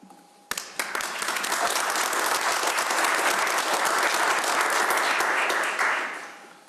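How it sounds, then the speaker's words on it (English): Applause breaks out suddenly from the audience at a village board meeting, swells into steady, dense clapping from many people, holds for several seconds, then fades away near the end. "And with that, I applaud you."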